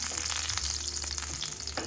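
Curry leaves sizzling in hot oil in a pan, a short, loud, continuous crackle with sharp spitting pops, close and alone.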